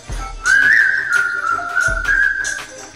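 Someone whistles a short wavering tune, a clear, fairly loud pure tone with a brief pause partway through.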